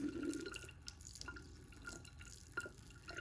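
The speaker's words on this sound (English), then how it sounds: "I can also move the stream of water." A thin stream of water runs from a tap in a classroom physics lab, giving a steady, close trickle with small splashy drips and no voices over it.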